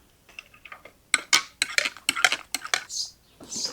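Mustard powder mixture is beaten in a glass jar with a spoon, giving a run of quick, sharp clinks and rattles in uneven bursts, close and fairly loud, with no talking.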